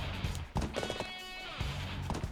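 Horse hooves clatter and a whinny rises in the middle, from the Dynasty Warriors 7 video game, short and close with battle noise around it.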